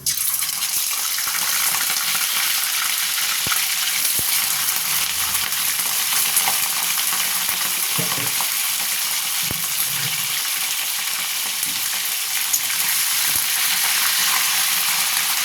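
Chicken pieces fry in white oil for a chicken stew, giving a steady, close sizzle with occasional stirring that holds an even loudness throughout, with no talking.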